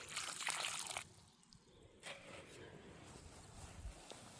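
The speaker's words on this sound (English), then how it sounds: "First, I'll pour some water in here." Water poured into a planting hole dug in garden soil, a short burst of splashing trickle at the start followed by quieter dribbling and faint outdoor background.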